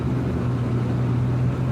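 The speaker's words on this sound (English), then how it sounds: "I wonder what RPM that truck is that's passing me." A truck hauling long lumber passes close by, its steady low engine drone and road rumble holding level and loud throughout, with no voices over it.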